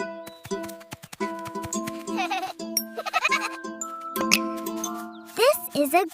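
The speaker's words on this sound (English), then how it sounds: "This is a goat." A cartoon goat bleats several times over a bright jingly children's tune, the wavering cries rising clearly above the music toward the end.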